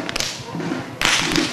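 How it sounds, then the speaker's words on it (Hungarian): Sharp whip cracks ring out at a grape harvest festival in Halas, Hungary, several loud snaps in quick succession over a busy outdoor crowd background. "Jó volt ez az ostorhang"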